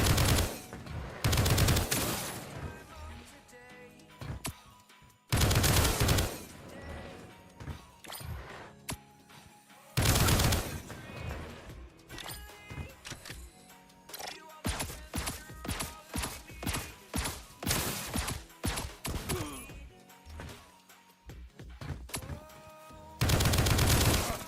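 Assault rifle gunfire in a video game under development, aimed down sights: loud, close shots in short automatic bursts and quick single volleys, separated by brief quiet gaps, with no talking.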